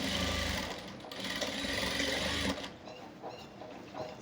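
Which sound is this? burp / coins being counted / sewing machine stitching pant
sewing machine stitching pant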